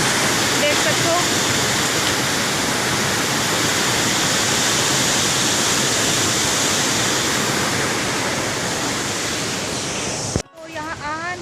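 Loud, steady roar of rushing water pouring through Rudri Dam, broadband and continuous, ending abruptly with a brief scrape of handling noise.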